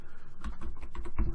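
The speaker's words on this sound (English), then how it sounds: "type in Race Menu" Rapid keystrokes on a computer keyboard, typing out a mod name in a search box, a close, steady run of clicky taps with no voices.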